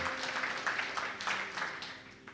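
A church congregation claps together during a New Year worship service, a steady patter of many hands that swells and fades over a couple of seconds, moderately loud and heard alone without talk.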